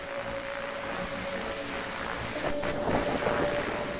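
Night rain hisses steadily in the Darkside Detective game, with a low rumble of thunder swelling partway through beneath a faint sustained tone, and no voices.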